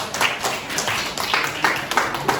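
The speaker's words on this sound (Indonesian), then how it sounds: "kasih tepuk tangan buat aku" Students in a grade 12 classroom clap together in a quick rhythmic burst, many hands slapping close by in a lively, slightly uneven pattern with no talking.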